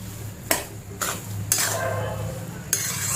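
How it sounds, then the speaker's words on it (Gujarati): A spoon scrapes and clatters against a pan while a milk-and-ghee mohanthal mixture, made without mawa, is stirred, with a few sharp scraping strokes spaced over a steady low background hum. "દૂધનો પાક બધો બળી જાય ને ત્યાં સુધી આને હલાવવાનું છે."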